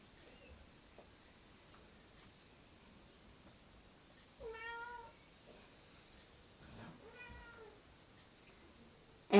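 A house cat meows twice in a quiet room during a gentle yoga session. The two drawn-out calls are separated by a few seconds of near silence, and a faint sharp sound comes at the very end.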